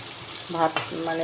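Potatoes frying in a pan on a gas stove, with a steady close sizzle and a few brief stirring scrapes partway through.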